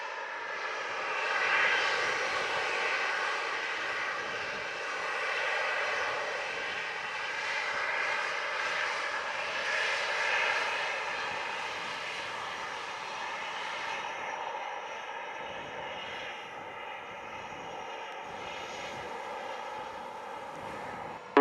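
A jet airliner roars steadily at Montego Bay airport in Jamaica, loud and close, its broad engine rumble and whine holding throughout with a slight fade toward the end.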